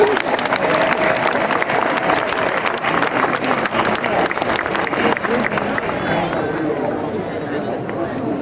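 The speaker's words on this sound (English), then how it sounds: "Let's give a round of applause to all of our honorary recipients." A graduation crowd gives sustained applause for honorary degree recipients, a dense, loud roar of clapping from a large audience mixed with cheers and chatter, tapering slightly near the end.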